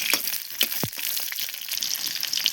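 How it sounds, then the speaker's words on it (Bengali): Onions dropped into hot oil in a wok hiss and crackle with a steady close sizzle, a few sharp pops and stirring clinks over the frying, with no talk. "পেঁয়াজ দিয়ে দিলাম।"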